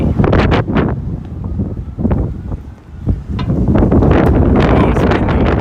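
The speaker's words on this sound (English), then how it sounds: "Oh, it's windy." Strong wind buffets the microphone on an outdoor walk through Williamsburg, Brooklyn, roaring in loud, continuous gusts that surge and dip briefly before building again.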